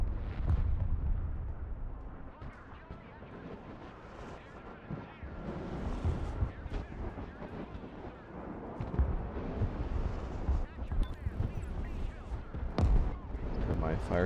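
Artillery fire support in the war video game Broken Arrow sends a run of deep booms and rumbling blasts, irregular and muffled, under a busy mix of low battle noise.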